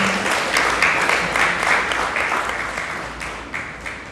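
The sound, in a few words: applause for graduate speakers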